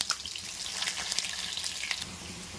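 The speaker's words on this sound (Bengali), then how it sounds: "সরষের তেলটা গরম হয়ে গেছে, আলুগুলো ছেড়ে দেওয়া হবে। ভালো করে আলুটাকে লাল করে ভেজে দিতে হবে।" Potatoes frying in hot mustard oil, a fine continuous sizzle with crackly spits, close and fairly quiet, no talking.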